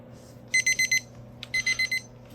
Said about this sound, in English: Timer is up.